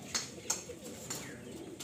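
Pigeons cooing softly at a loft, with a few brief bird calls standing out over a low murmur of cooing in the background.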